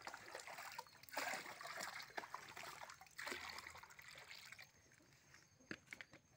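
Eggplant plants in polybags being watered gently, a soft trickle and splatter of water falling onto soil and leaves in uneven bursts, close but faint.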